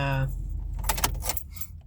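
Car keys jangle near and bright in a few quick bursts, with a voice speaking just before them.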